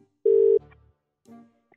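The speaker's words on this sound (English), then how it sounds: "It's ringing." Telephone ringing on an outgoing call, one short steady ring tone followed by faint clicks and a softer tone, with no speech.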